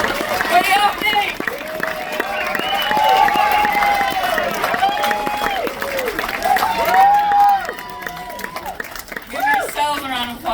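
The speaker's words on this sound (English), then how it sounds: "Give yourselves a round of applause." Live-show audience at the Cayamo festival concert responds with steady applause and cheering, a dense wash of clapping mixed with crowd voices and whoops that stays loud throughout.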